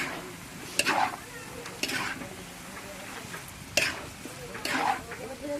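Cabbage is stirred in a large pot on a clay stove, cooking for about fifty people, with repeated scraping turns of a spatula over a quiet sizzle, the strokes coming every second or so.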